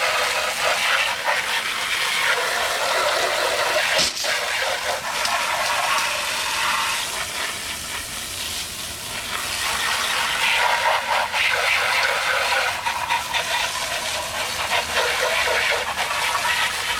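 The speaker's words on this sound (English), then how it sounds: "So here we go, man, just the pressure of a water hose." Steady broadband hiss of a water hose spraying a light-colored truck's paint, continuous and close, with a brief dip in force midway before the spray resumes at full strength.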